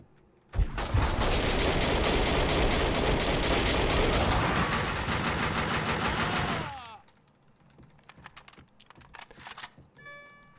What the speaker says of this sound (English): Let's start using an assault rifle.